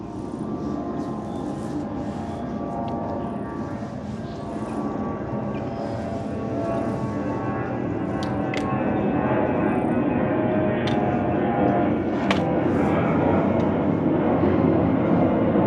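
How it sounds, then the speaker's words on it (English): Airplanes fly overhead, a broad steady roar that swells slightly louder over time, heard alone without talk. "Planes flying over are always so interesting in this area."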